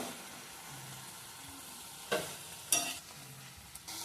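Cumin and coriander powder spice paste stirred and sautéing in a pan for a fish and potato curry, a low steady sizzle with a couple of sharper scrape-like bursts of stirring, no talking.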